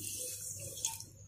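Half a cup of water is poured into a pan for sugar syrup, a soft, steady splashing hiss that stays faint and close throughout.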